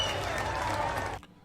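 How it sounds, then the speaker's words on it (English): An audience breaks into a dense, steady wash of applause that carries on loudly for about a second before stopping abruptly and leaving near silence. "Let's give him a round of applause."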